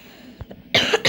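A person who feels unwell coughs close to the mic, two small throat sounds followed by two loud, harsh coughs in quick succession.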